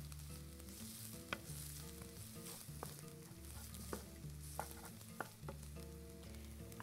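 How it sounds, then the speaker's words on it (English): Chopped onions saute in a pan, frying with a steady close sizzle while a utensil stirs them now and then with light clicks and scrapes. "You just want to saute them, get them translucent."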